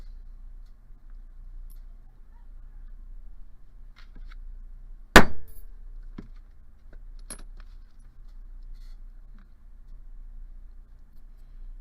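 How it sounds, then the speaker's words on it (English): A hammer strikes a metal letter stamp on a bracelet blank for a stamped hinge-top bracelet: one sharp, loud, close metallic blow in a quiet room, followed by a brief ring-out and a few faint small taps. "hold firmly at the base of the stamp and hit one good blow with your hammer"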